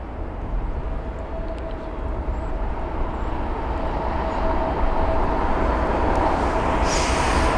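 An Airbus A320neo jet lands at London Heathrow, its engines a broad, steady roar that grows gradually louder as it nears, with a high whine building toward the end.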